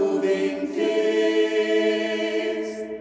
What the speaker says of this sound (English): Parallel moving fifths sound like this.